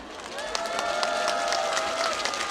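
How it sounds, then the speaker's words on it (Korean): Audience applause at the 2023 Nonsan Strawberry Festival during a live public radio broadcast, a steady wash of clapping and crowd noise with a tonal melodic line running underneath, continuous and fairly loud throughout. "큰 박수 부탁드립니다."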